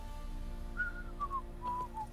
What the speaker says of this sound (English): Yeah, let's not have whistling.